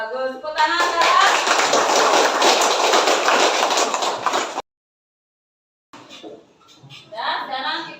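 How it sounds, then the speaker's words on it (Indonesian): A classroom full of students claps hands together in a dense, loud burst of applause that runs for several seconds, then cuts to silence before a teacher's voice returns. "Tepuk tangan"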